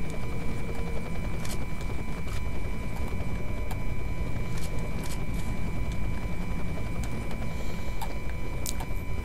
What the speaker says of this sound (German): Ja, ich weiß, ein Helikopter und so.